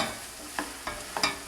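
Potato soup stirred in a pot: a soft background hiss with four light, evenly spaced scraping taps of a spoon against the pot, quiet and close, with no talk.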